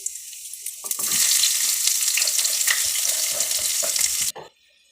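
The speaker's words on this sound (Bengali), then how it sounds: "তো তেল গরম হয়ে গেছে, জিরা ফোড়ন দিয়ে দেবো।" Cumin seeds dropped into hot oil for a dal tempering crackle and sizzle loudly and steadily for about four seconds, then the sound cuts off abruptly.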